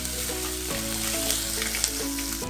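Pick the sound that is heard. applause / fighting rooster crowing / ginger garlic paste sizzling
ginger garlic paste sizzling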